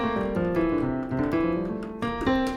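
A keyboard plays a Mixolydian scale for an electro disco song, a steady run of sustained single notes stepping one after another, clear and close with no talking.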